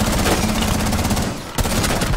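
Sustained, loud automatic gunfire in Rainbow Six Siege rattles almost nonstop, dipping briefly before resuming at full intensity.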